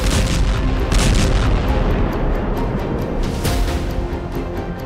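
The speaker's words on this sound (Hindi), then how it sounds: "लंबी दूरी की मिसाइल से हमला।" Heavy artillery-like blasts and rumbling explosions from a long-range missile attack in war news footage, a dense, continuous roar of loud booms with no clear gaps.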